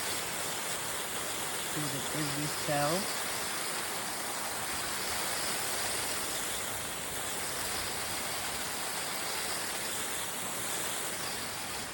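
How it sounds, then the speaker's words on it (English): Water sprinkled gently over repotted coriander seedlings gives a steady, even hiss for the whole stretch, with a voice speaking briefly near the start. "now I'm going to give them a lovely sprinkle of water"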